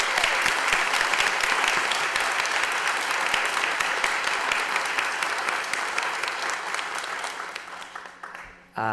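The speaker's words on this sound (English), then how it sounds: "I'd like a round of applause for him doing that" Steady audience applause at a school committee budget hearing, a sustained wash of many hands clapping that gradually fades out near the end.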